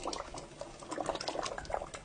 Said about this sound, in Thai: น้ำก็เดือดเรียบร้อยแล้ว